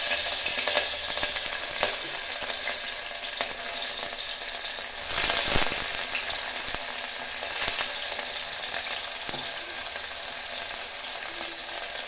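Green chillies and onions frying in hot oil in a pan for palav, a steady bright sizzle throughout with a brief louder surge of stirring midway, close and without talk.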